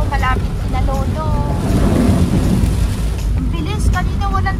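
Fast-running flood water from Typhoon Goring rushes loudly and steadily over a road near a farm, a broad continuous roar with wind buffeting the microphone and voices calling out over it.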